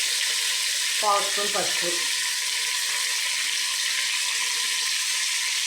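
Mutton sizzles in a pan over sautéed onions, a loud, steady, close hiss of frying fat that continues throughout, with someone speaking briefly over it.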